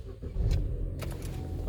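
A used car's engine starting up, a brief starter whir catching into a low, steady idle, heard close from inside with no talk.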